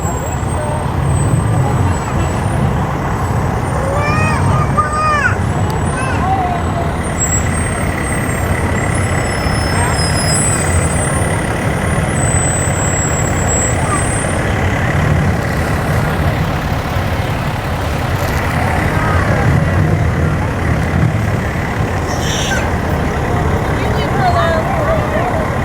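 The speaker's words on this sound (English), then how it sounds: "They like the yellow trucks." Trucks roll by steadily in a Memorial Day parade in Piqua, a continuous low engine rumble with traffic noise throughout, occasional brake hiss, and people talking nearby.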